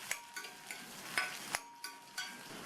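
Onions, green chillies and curry leaves sauté in a pan with a soft sizzle, while a spatula scrapes through them in about seven steady, evenly spaced strokes, close up and with no voices.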